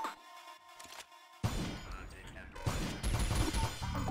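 Gunfire in the game Synthetik, with a burst of dense, crackling shots and impacts starting abruptly after a quieter tonal stretch, then continuing loudly to the end.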